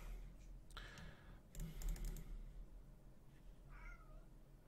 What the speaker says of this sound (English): And my cat is here.